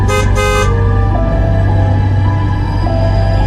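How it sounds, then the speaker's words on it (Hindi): A loud bus horn honks twice in quick succession as a large bus pulls up at a roadside dhaba, then a steady engine drone and traffic rumble continue close by. "तभी अचानक एक हॉर्न बजा।"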